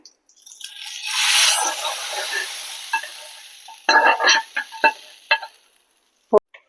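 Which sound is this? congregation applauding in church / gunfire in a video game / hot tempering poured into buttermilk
hot tempering poured into buttermilk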